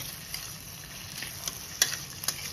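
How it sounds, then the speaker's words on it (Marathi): Green peas being sautéed in a pan for masala rice, a soft steady sizzle with a few light stirring clinks and scrapes spread through, with no talking. "छानपैकी असं परतवून घ्यायचंय आपल्याला"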